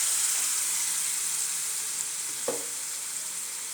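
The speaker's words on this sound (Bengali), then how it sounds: "আমি মশলাটা ভালো করে কষিয়ে নেব" Spice paste with chopped tomato and a splash of water sizzles in a pan for a meat curry, a dense steady hiss throughout with one brief spoon scrape midway.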